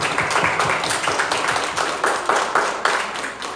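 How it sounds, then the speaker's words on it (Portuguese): A church congregation claps loudly and close by, a dense crowd of hands with a faint pulsing rhythm running through the sustained applause. "Vamos aplaudir a Jesus?"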